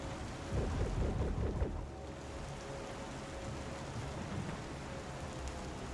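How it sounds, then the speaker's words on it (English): Steady rain falling in the Star Citizen video game, a dense even hiss of drops on surfaces that holds throughout, with a brief louder patter early on before settling into a constant wash. "Like, I could listen to this rain sound for going to sleep, easy."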